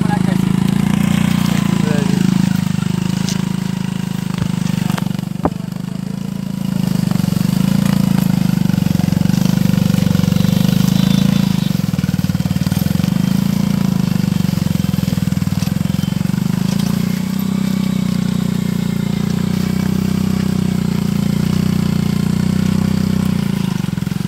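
A motorcycle engine runs a sugarcane weeding machine in the field, a steady loud mid-pitched drone throughout with slight rises and dips in speed, with voices faintly under it.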